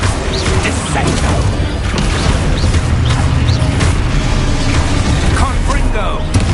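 Descendo spell slamming in the video game Hogwarts Legacy, loud crashing impacts and booms in a dense stream of combat effects, with a voice calling out under the noise.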